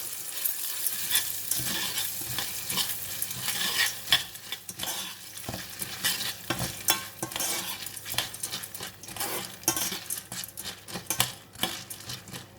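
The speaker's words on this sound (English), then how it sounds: "So I'm just going to coat the corn with butter in this saucepan." Corn kernels stirred in melted butter in a saucepan over medium heat: a close, continuous rattling scrape of a utensil against the pan over soft sizzling, with irregular clinks and no talk.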